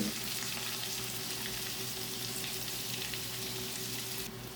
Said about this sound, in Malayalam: ചട്ടി വെച്ചു കറിയിൽ പണി തുടങ്ങി ഉള്ളി പച്ചമുളകും നമുക്ക് വഴറ്റാം